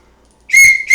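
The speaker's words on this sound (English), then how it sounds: "orange immersion whistle" An orange immersion whistle gives one sharp, piercing blast after a moment of silence, loud and close, followed by a second short toot right after.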